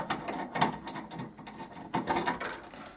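Ratchet working a 10mm ground bolt loose on a Ford Focus tailgate, quick close clicking bursts in two short runs, faint and crisp.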